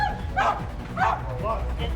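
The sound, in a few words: dog barking during police raid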